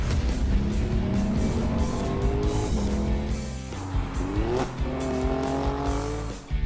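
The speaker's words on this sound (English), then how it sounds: "This is how a car should sound." A KGM Actyon SUV's engine revs hard with tyres squealing through a turn, loud and close, the engine note rising and falling continuously with no talk over it.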